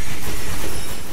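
A moving train in the video game ARK: Survival Evolved rumbles loudly and close, a dense continuous roll of wheels with faint clickety-clack and no voices.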